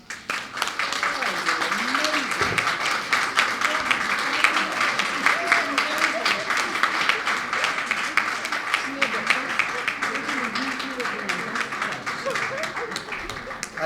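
An audience at the Think Equal Programme launch in Belize gives a teacher a long, steady round of applause, dense clapping holding at an even level for over ten seconds, with a few voices audible beneath.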